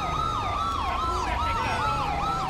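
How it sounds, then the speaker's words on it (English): Police sirens wail in the video game GTA V with the LSPDFR mod, several overlapping rising and falling tones sweeping repeatedly, loud and close over a low vehicle rumble, with no talking. "now with all the sirens still going"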